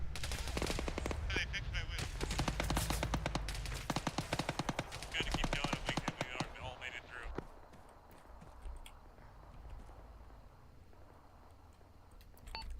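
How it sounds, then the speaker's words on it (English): Machine gun suppressing fire in the Arma 3 military shooter, rapid bursts of close automatic fire rattling for several seconds, then fading into quieter scattered shots and ambient battlefield noise. "Gunners, start suppressing!"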